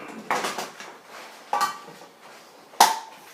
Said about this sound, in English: we'll open up our cans of tomato